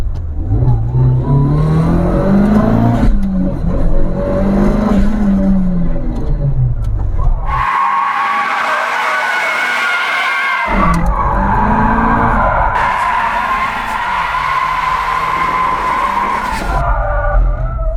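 A Mitsubishi Lancer Evolution VI Tommi Makinen edition, a four-wheel-drive car, revs hard while drifting, its engine note rising and falling, then long, loud tire squeals ring out in two extended bursts as the tires skid.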